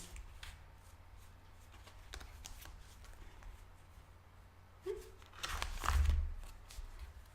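Tarot cards being shuffled by hand, heard as soft, quiet rustling with scattered light flicks. A louder burst of shuffling comes near the end.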